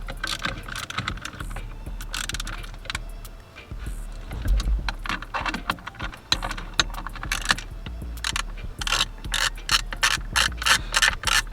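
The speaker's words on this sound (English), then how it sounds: "All we doing is undoing these screws." A hand tool working screws loose inside a Chevy truck, close-up ratcheting clicks in rapid bursts with short pauses and faint rubbing between them.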